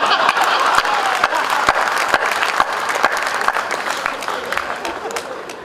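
Audience applause at a Hindi poetry recital in Jaipur, a loud, even wash of many hands with a few sharp individual claps standing out and crowd murmur beneath, fading slightly toward the end.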